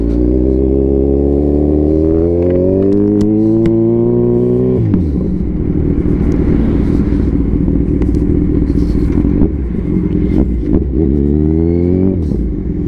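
Motorcycle outside a moto cafe revving hard for a wheelie, the engine climbing in pitch, dropping sharply, then surging again, loud and close throughout.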